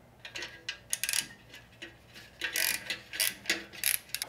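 A ratchet wrench loosens the exhaust bolts on a motorcycle while a Vance and Hines Grenades exhaust is being installed. Close, crisp ratcheting clicks come in short uneven bursts with brief pauses.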